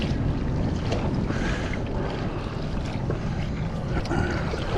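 Wind blows hard against the microphone while kayaking out on open water toward Watsons Bay, a loud, continuous roar with low rumbling gusts and faint water movement around a leaky kayak.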